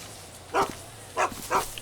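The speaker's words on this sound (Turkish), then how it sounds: "Kimin köpeği lan o?" A dog in Grand Theft Auto 5 barks three times in short separate bursts, fairly faint over a quiet low hum.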